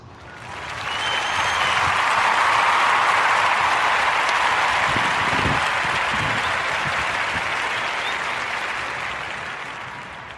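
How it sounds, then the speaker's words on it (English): A comedy show audience breaks into a round of applause for the comedian, dense clapping that swells in, holds steady and slowly tapers off. "can I get a round of applause"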